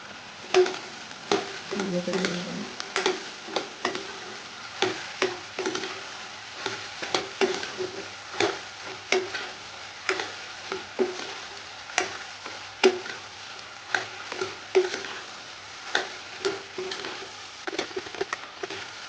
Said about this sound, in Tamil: நல்லா வதங்கட்டும் பூண்டும் சுண்டக்காவும் வதங்கி வரும்போது நல்லா சுண்டு வரும்